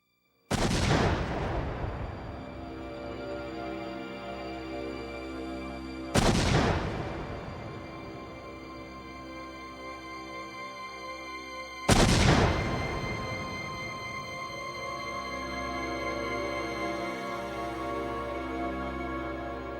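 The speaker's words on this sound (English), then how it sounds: "the LAPD performed a test explosion in the California desert" A pickup truck packed with ANFO and TNT is detonated in a test blast in the California desert: three huge, sharp booms several seconds apart, each followed by a long, rumbling decay.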